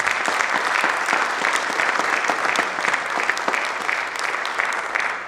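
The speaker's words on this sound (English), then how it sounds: "Let's please give our student athletes a round of applause." Audience applause for student athletes at a fall sports signing day event, a steady, dense clatter of many clapping hands sustained throughout at fairly loud level with no talk over it.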